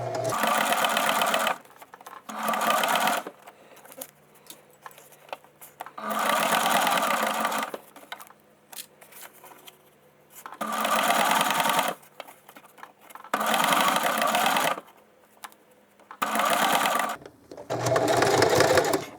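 Sewing machine stitching a denim strip for a zipper bracelet, running in about six loud close bursts of steady buzzing separated by short quiet pauses.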